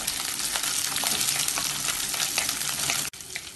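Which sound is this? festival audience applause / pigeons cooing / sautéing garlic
sautéing garlic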